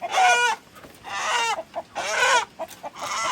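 A rooster on a farm in Ilam, Nepal, clucks in loud, close bursts: three long harmonic calls separated by short, choppy clucks, with no talking.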